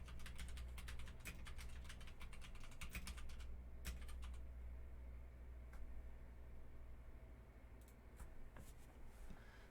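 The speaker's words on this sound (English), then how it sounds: "I am just typing." Quick bursts of keyboard clicking, fast irregular keystrokes in clusters, fairly faint against a low steady background hum, with no voices.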